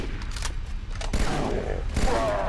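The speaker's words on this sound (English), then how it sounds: "the battle rifle has like a grenade launcher thing, so yeah, I might as well just use it" Grenade launcher on the battle rifle firing in the video game Halo Combat Evolved, sharp blasts and booms over dense gunfire and battle noise, loud and busy.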